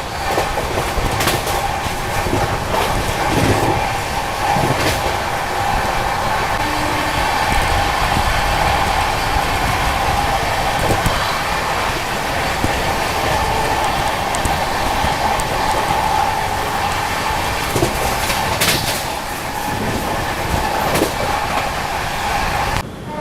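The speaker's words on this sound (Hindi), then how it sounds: "अभी देखो अपनी ट्रेन स्किप कर रही है राजा की मंडी रेलवे स्टेशन" Delhi Howrah Rajdhani Express running through Raja Ki Mandi station near Agra Cantt, with a steady loud rumble of wheels on rails, rhythmic clatter and a brief brighter squeal near the end, continuous throughout with no talk.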